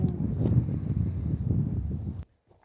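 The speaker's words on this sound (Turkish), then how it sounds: "Rüzgar var." Steady, rumbling wind buffets a lapel microphone outdoors at Akyaka, Muğla, Turkey, a dense low roar that cuts off abruptly near the end.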